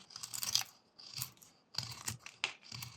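A knife makes push cuts into a small block of wood that is being whittled into a crocodile, giving a few short, crisp scraping shaves at irregular intervals, close and dry, with short pauses between them.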